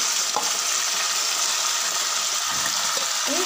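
Boiled elephant foot yam stalks hit a pan of frying onion and chilli over high flame, giving a loud, even, continuous sizzle with a few faint knocks underneath.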